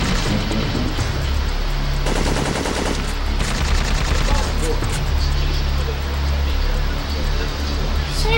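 Enemy automatic gunfire from Syphon Filter 3 crackles in dense bursts among rocky terrain, loud and sustained with a brief heavier barrage midway, while excited voices talk over it.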